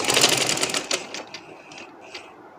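A sewing machine runs along a dress seam in one short continuous burst that tapers off, close and moderately loud, followed by light mechanical ticks.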